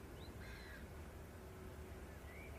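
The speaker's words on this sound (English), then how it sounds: "We got some seagulls on the airfield today." Gulls calling over an airfield, a few short drawn-out cries spread across a steady low background rumble, moderately distant and fairly faint.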